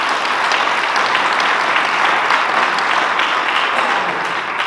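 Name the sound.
audience applause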